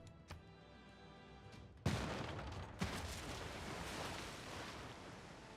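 A city bombard attack in Civilization VI lands as two sharp, booming blasts about a second apart, followed by a sustained rumbling wash of noise.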